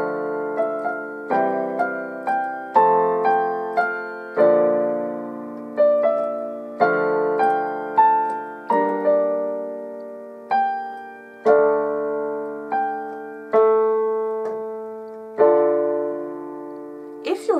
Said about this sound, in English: If you're doing the simplified block chords, it would sound like this.